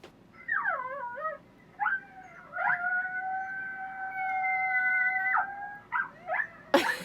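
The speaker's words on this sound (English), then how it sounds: "the dog started howling like crazy" Neighbouring dogs howl in long, wavering, siren-like tones, several voices overlapping and rising and falling at mid distance over a few seconds, broken by short yips and a sharp close knock at the end.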